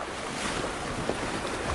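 Rough open-ocean waves in the Indian Ocean break against a sailing boat, a continuous loud wash of surf and spray mixed with wind noise.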